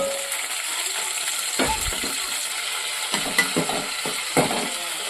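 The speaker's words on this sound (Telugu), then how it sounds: "ఫ్రై అవుతున్నాయి కదండి." Boiled pieces sizzle and fry in hot oil in a pan, a steady hiss broken by a few louder bursts of stirring and scraping, close by with no talk.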